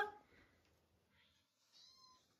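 A house cat gives a faint, drawn-out meow indoors after being let out of a carrier at home in a quiet room.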